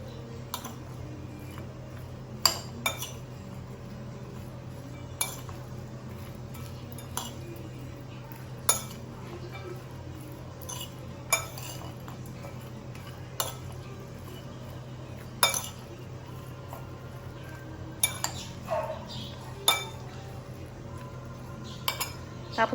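A utensil clinks sharply against a bowl at irregular intervals while tofu is mixed with mayonnaise, the bright metallic taps close and distinct over a low steady background hum.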